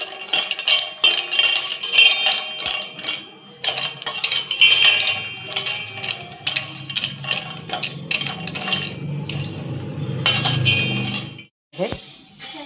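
Cinnamon being dry-roasted in a pan for homemade Malvani masala, with bright clinks and scraping rattles of spice and utensil against the metal pan recurring steadily throughout, close and fairly loud, with no speech.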